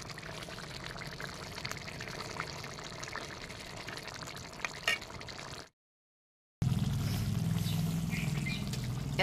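A pot of rice with eggs and potatoes simmering steadily, a soft continuous bubbling and watery churn close by, briefly cutting out before returning louder and fuller.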